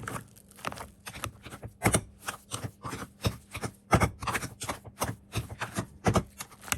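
Boiled potatoes being mashed with melted butter for shepherd's pie, a close, rhythmic series of thuds and squelching presses repeating about twice a second with no talking.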